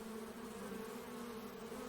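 Honeybees buzzing inside a hive, a steady low droning hum from many bees fanning to cool the colony, continuous and unbroken at moderate volume.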